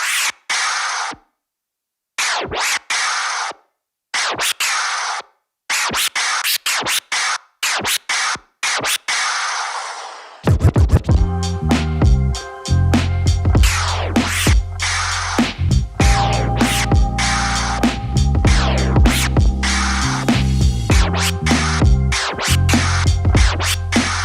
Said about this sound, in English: For the baby scratch, we want to focus on keeping hold of the vinyl, bringing it back to the correct starting point.